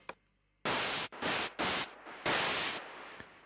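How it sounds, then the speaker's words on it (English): A gritty synth patch built from three oscillators and a noise generator in Ableton Live plays as four loud bursts of harsh broadband hiss, separated by short silences, with faint clicks before and after. "There are 3 oscillators and a noise generator. So the reason they've got that quite gritty sound is"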